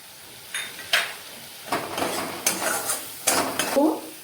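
A spice paste of green chilli and a little sugar fries in a pan while being stirred, with a faint sizzle beneath several distinct scraping and clinking strokes of a spoon, close and without speech.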